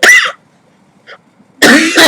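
A single sharp cough bursts out, followed by a brief pause with a faint tiny sound, then another harsh cough close to the mic.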